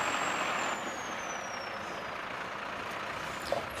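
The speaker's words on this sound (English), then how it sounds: "The CPT rig is then driven to the first location." A CPT rig truck drives with its engine droning steadily throughout, and a high whine slides slowly downward before a brief air-brake release hisses near the end.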